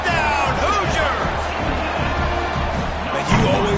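A home crowd roars after a touchdown in an NCAA college football video game: a dense, continuous wall of cheering and babble with a slight swell near the end.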